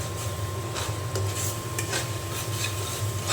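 Spices being stir-fried in oil for chicken curry, with a continuous sizzle and scraping spatula strokes against the pan at an uneven pace, close and steady, over a faint tonal hum.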